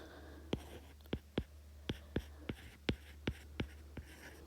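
Pen strokes on paper while working trigonometry identities, a series of about ten sharp, quiet taps and scratches at an uneven pace in a quiet room.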